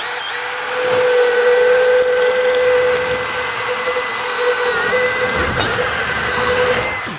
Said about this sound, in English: We'll drill that sucker and get that fed in there.